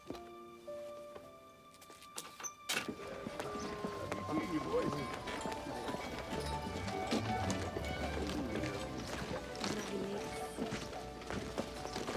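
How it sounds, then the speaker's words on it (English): Horse hooves clip-clop steadily as a buggy rolls along at a seaside lighthouse setting, a rhythmic trotting beat under people talking. "Oh, she means your horse and buggy."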